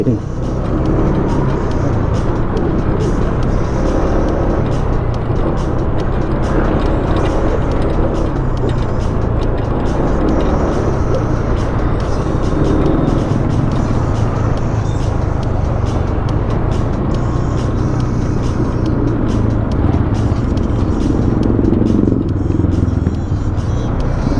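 Continuous road traffic with cars and buses on a rainy evening, a steady low engine rumble and passing vehicles heard close by, with a voice talking over it.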